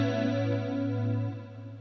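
Guitar played through a Death by Audio Space Bender pedal in envelope mode gives a sustained, harmonically rich chord with wobbling, chorus-like modulation that fades slightly toward the end, heard alone.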